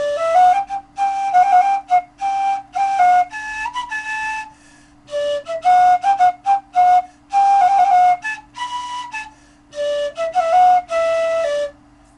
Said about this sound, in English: That's the dizi.